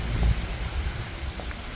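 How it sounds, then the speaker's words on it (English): Rain falling outdoors in a quiet small town, a steady close hiss of drops on surfaces with a brief heavier gust near the start and no voices. "Get rained on, because of course I didn't bring a raincoat."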